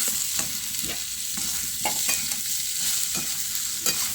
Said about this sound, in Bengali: ভালো করে আমি নাড়াচাড়া করে নেবো